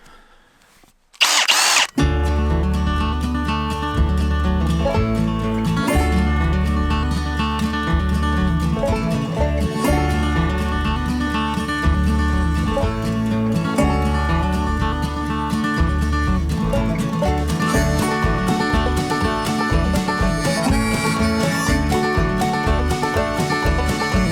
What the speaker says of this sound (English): All right, so we got all 20 holes drilled.